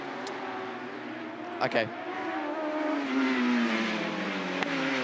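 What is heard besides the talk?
autograss race cars passing the commentary point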